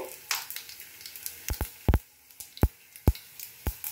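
Mustard seeds crackle in hot mustard oil, with a soft sizzle running underneath and a handful of sharp, close pops and taps spaced irregularly through it, and no talk.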